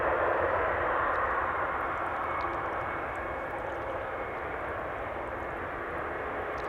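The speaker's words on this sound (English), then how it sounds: "Little parade lap for the Orange Sprite, who's going to take off from the centered runway, but will be taxiing right in front of us." An airliner in orange livery taxis at Amsterdam Schiphol Airport, its engines a loud, steady, close drone that fades slightly as it rolls past.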